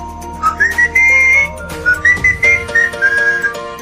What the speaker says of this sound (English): he likes to whistle when the saints go marching.